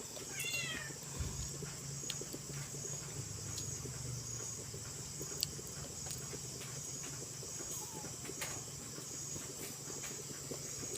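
A cat meows in a home kitchen while a dinner dish cooks, a brief rising cry near the start over a steady hiss and low hum, with a few faint clicks later and no talk.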